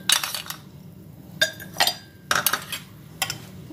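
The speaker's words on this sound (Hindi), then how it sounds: "आइस क्यूब डालेंगे" Ice cubes clinking into a glass of bael (wood apple) juice: a few sharp, separate clinks and knocks spread across a few seconds, close and bright, with no talk.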